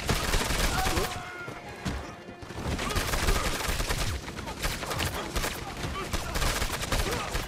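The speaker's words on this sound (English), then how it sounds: "I need help, I'm being shot from everywhere." Dense, sustained gunfire during a Red Dead Redemption 2 shootout: loud, rapid, overlapping shots almost without pause, with brief talk mixed in.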